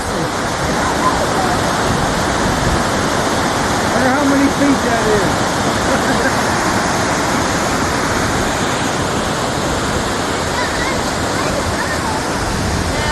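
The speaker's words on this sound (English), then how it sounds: "This is the waterfall." Loud, steady roar of a waterfall rushing down a green, mossy hillside near Cherokee, broadband and constant throughout, with a person speaking briefly over the rushing water.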